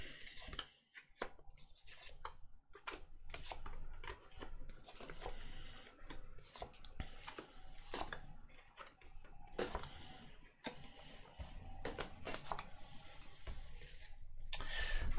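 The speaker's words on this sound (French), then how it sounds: "Alors je pose les cartes." Tarot cards are laid down one after another on a table, giving soft, scattered taps, slides and rustles close by with irregular timing and no talking.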